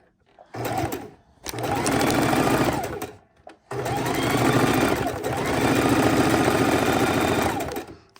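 Sewing machine stitching raw edge appliqué in three bursts of fast, even needle whirring, short stops between them, the last run longest and loudest, close up.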